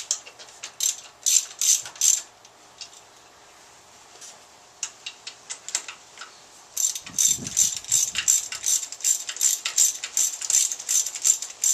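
A ratchet wrench tightens 9/16 bolts on a Ford C4 transmission housing for a '67 Mustang: bursts of rapid, close metallic clicking, a pause, then longer steady ratcheting runs.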